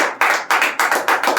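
Rhythmic hand clapping from a church congregation during a Hindi sermon, several loud claps in a steady repeating pattern with no voices over them.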